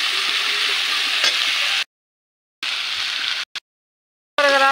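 Capsicum and potatoes frying in a pan for a dry aloo capsicum dish, a loud steady hiss and sizzle cut by two stretches of silence, with stirring clatter and no talking.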